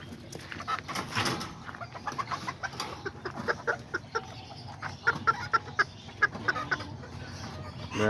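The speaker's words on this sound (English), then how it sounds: "I got this my little azteca right here, a rooster, and then I have put him with one of these little hens right here." Small Azteca rooster penned with a little hen, clucking and calling in short bursts that grow into a run of sharper, closer calls near the end, over steady farmyard background.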